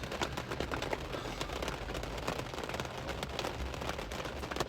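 Rain falls at GEODIS Park in Nashville during a 5K run, a dense, steady patter of drops hitting surfaces, with crackling splashes throughout and no talk.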